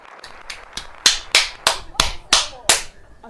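A quick run of hand claps, about a dozen sharp smacks starting soft and growing louder, close up with no talking.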